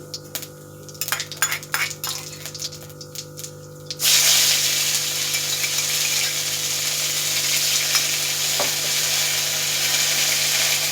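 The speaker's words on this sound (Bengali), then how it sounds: "তো এই যে তেল গরম হয়ে গেছে, জিরে ফোড়ন দিয়েছি।" Cumin seeds dropped into hot mustard oil for tempering, a loud steady sizzle that bursts in abruptly and holds without a break, after a few light clinks of utensils.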